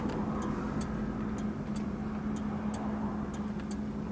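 A 1976 Cadillac Seville's engine hums steadily from inside the moving car, a low constant drone with faint road noise and light ticking above it, no voices.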